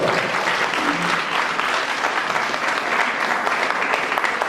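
Steady round of audience clapping at a school annual day event, loud and continuous with many hands overlapping, a brief murmur of voices under it early on.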